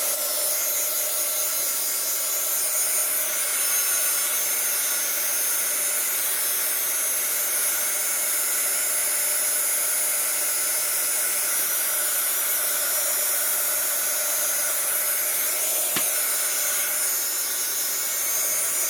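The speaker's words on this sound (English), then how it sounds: "Then I'm going to get my little here, my heating tool." A small handheld heating tool blows hot air to dry a Dollar Tree home decor craft, giving off a steady, loud, continuous whooshing hum with no breaks.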